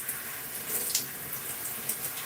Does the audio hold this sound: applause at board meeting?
no